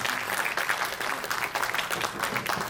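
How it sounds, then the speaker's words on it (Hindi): Loud, steady applause from an audience at a formal ceremony honouring a newly appointed official, many hands clapping densely and continuously with no pause. "जोरदार तालियों से उनका अभिनंदन किया जाए"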